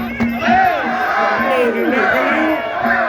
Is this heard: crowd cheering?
yes